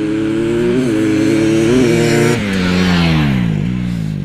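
A dirt-bike-style motorcycle with new sprockets (14 front, 50 rear) revs loudly and close by at a drag-racing meet, its engine note rising and falling in several strong surges with no talking.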